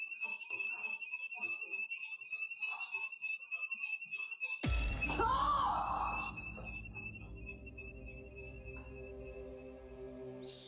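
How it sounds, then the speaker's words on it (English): A home alarm goes off indoors, cutting in abruptly and loudly after a stretch of quieter sound, then holding as a steady, piercing, continuous tone to the end. "Something sets off the alarm inside Britt's house"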